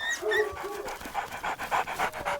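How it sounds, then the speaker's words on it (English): A dog pants close to the microphone in quick, rhythmic breaths, with a few faint whiny tones early on and no other sound. "London was full of dogs and cats."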